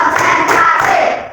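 Children in a sixth-grade classroom clap their hands in unison, a brief, loud burst of many hands landing together before tailing off.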